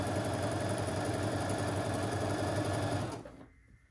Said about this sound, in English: you're going to sew on both sides of that drawn line